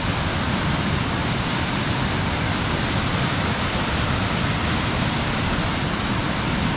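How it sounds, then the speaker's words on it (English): Fast-flowing water along a stretch of Josephine Creek near Innisfail and Babinda, a loud, unbroken rushing roar that stays constant throughout with no voices. "Fast flowing rivers like this part of Josephine Creek present some challenges."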